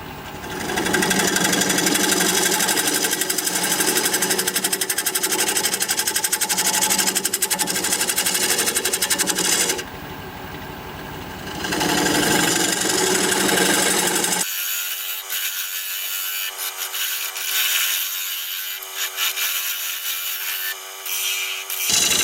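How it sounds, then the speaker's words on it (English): Wood lathe spinning a bowl blank at 700 RPM while a 1/2 inch bowl gouge cuts it, giving a loud, continuous scraping and rushing hiss, with a shift in tone partway through as the cut changes. "We're going to be turning it at 700 RPM, 1/2 inch bowl gouge"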